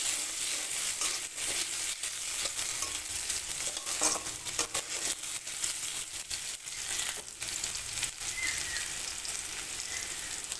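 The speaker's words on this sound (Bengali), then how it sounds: "আলুটা লাল লাল করে ভেজে নেব" Potatoes sizzle and crackle steadily as they fry in hot oil in a pan, with occasional scraping and stirring noises throughout.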